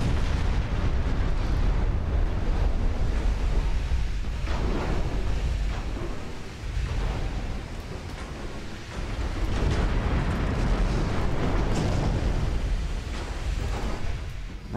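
In a naval combat video game, a warship takes fire and sinks amid continuous heavy booming and rumbling explosions, a loud, dense roar that swells and dips without letting up.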